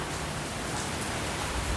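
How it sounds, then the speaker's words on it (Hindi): Steady rain pours down outdoors during an Eid gathering, a dense even hiss of close drops on surfaces running unbroken from start to finish with no other sounds. "बारिश हो रही है और बहुत ही प्यारी बारिश है"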